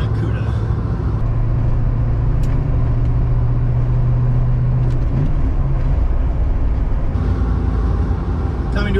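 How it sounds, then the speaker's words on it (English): A 1971 Plymouth 'Cuda with a 340 engine and four-speed manual being driven: a loud, steady engine drone with road rumble throughout, close and continuous, with a slight shift in pitch partway through. "Not a bad day to be driving around in a Cuda."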